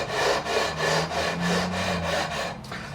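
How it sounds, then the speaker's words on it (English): Close, rhythmic back-and-forth rasping of 240-grit emery paper on a flat beam leveling the frets of a PRS SE guitar, about six even strokes with no talking. "That would make sure all the frets are level."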